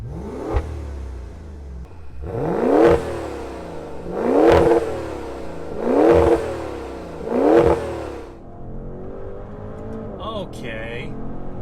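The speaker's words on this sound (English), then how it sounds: "But first, we're gonna rev it." A 2020 Maserati Levante Trofeo, a 590 hp performance SUV in Sport mode, gets four loud, evenly spaced revs that climb and fall back to idle, with a brief voice near the end.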